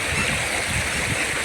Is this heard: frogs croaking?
no